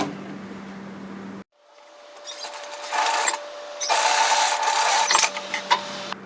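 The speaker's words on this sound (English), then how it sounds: "we're going to stitch then overlock these sides together" A sewing machine or overlocker stitches the sides of a varsity bomber jacket cuff together, a close mechanical whirring and rasping in short bursts that grow louder after a brief pause, alone without talk.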